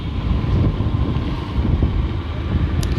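Steady, loud wind buffeting the microphone while riding a motorbike, a continuous low rumble that never lets up, with no voices over it.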